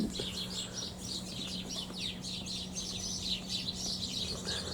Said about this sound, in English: Hello, birdies.